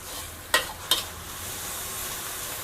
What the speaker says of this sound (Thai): เราจะผัดให้หมูสุก สักประมาณ 60เปอร์เซ็นต์